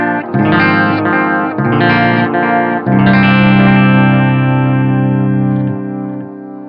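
An electric guitar runs through a digital delay on a Line 6 Helix or Strymon Timeline, playing a few chords and notes whose repeats smear into a long ringing wash that fades out at the end, loud and close.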